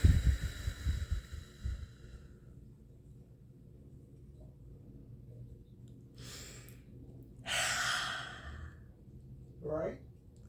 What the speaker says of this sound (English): I'm just doing breathing, old-fashioned, my breathing exercises I used to do back in the day.